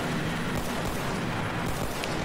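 Explosions and gunfire from a World War 2 style battle defending a mountain pass in the video game Ravenfield, a dense, continuous rumble of blasts with no pauses and no talk.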